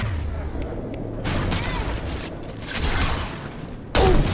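Sustained volleys of gunfire in the video game Mass Effect 2 during a loyalty mission, rolling in waves with a louder burst near the end and brief game voices mixed in.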